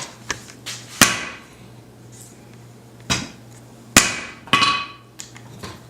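Hammer blows forging a hatchet shoulder on an anvil, several ringing metallic strikes at irregular intervals, some lighter taps between the heavy hits.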